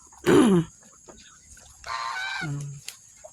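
A loud, close honk from a goose followed by a longer, lower nasal call, with quiet farm background between.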